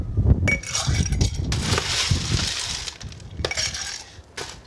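Ice clatters into a glass while a Grey Goose Rendezvous cocktail is built at a Cannes event, with clinks and cracks of cubes up close, spread over a few seconds amid the chatter of a busy room.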